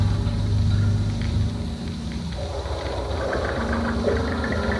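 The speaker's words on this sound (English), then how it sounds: "Another tractor on its way to new areas." A tractor engine runs steadily on its way to new rice fields in the Philippines, a continuous low mechanical drone that stays loud and even throughout with no talk.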